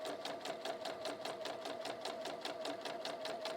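A sewing machine top-stitches fabric in one continuous run, its needle hammering in a fast, even mechanical rhythm with a steady motor whine underneath, fairly close and uninterrupted.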